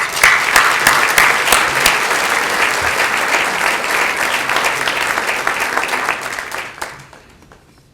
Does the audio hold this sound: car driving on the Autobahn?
no